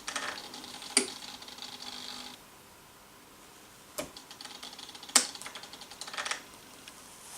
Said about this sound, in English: Here's another set of points, and this one is operated by the servo motor.